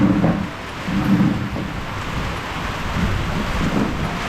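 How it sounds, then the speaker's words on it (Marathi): Heavy unseasonal rain with hail during a thunderstorm, a steady rush of rainfall with low rumbling thunder swelling and fading in the background, no voices. "खूप पाऊस चालू झाला आता."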